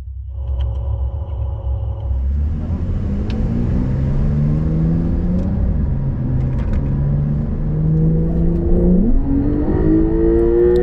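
A race car laps a racetrack, its engine droning loud and close with rising and falling pitch as it shifts through gears and accelerates, a continuous rumble from start to finish.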